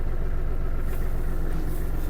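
Kubota GL-29 mini tractor's engine idles while warming up, a steady, loud, close low rumble that holds constant throughout, with no voices.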